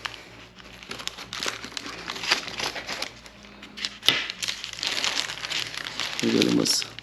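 Paper wrapper crinkles and crackles close by as a Burger King One Piece themed burger is cut in half, a steady rustle with a few sharper crunches and a louder burst of crinkling near the end, with some talk in the background.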